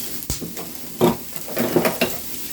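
Lamb pieces hit a hot pot of onions and peppers for a lamb stew, sizzling as a spoon stirs with a few clanks against the pot, close and loud, no talk.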